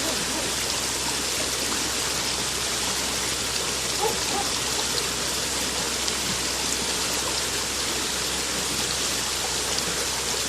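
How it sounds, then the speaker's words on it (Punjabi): Fast, swollen flood water of the Satluj river in Vehari rushes past in a steady, dense broadband roar, loud and continuous throughout with no talking. "ਵੇਖੋ ਇੱਥੇ ਪਾਣੀ ਦੀ ਸਪੀਡ ਚੈੱਕ ਕਰੋ ਕਿ ਪਾਣੀ ਦੀ ਸਪੀਡ ਕਿੰਨੀ ਹੈ"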